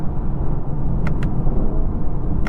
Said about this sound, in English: downshift a couple times, and just listen to that V8 sing